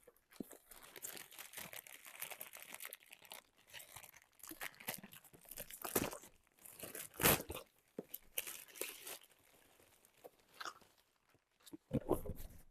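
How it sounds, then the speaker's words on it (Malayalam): Packaging for a 5-in-1 hot hair brush from Temu is opened up close, with irregular bursts of crinkling plastic, tearing and rustling and short pauses between them. "നമുക്ക് ഒരുമിച്ച് അൺബോക്സ് ചെയ്യാം"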